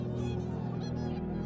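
Whooper swans calling, a run of loud, nasal, trumpeting honks repeated in quick succession close by, with no other sound competing.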